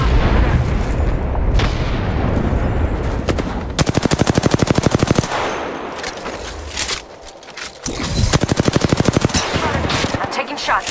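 Gunfire in Apex Legends: loud, rapid automatic bursts of rattling shots alternate with booming blasts and brief lulls. The firing is close and dense.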